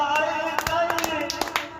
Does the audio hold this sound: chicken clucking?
no